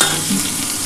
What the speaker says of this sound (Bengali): নিম পাতাটা আমার মোটামুটি ভাজা হয়ে এসছে।